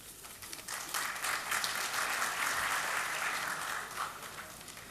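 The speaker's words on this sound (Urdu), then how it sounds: "آپ نے ہلکے تالی بجائی، لیکن جب وہ گئے تو بہت زور سے بجائیں" Audience at an Urdu mushaira poetry gathering in Doha, Qatar clapping hard, a dense wash of applause that swells after the first second, holds strongly, then fades near the end.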